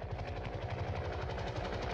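A helicopter flying over jungle in Vietnam War footage, its rotor making a steady low rhythmic chop with an engine drone throughout, continuous and moderately loud with no voices.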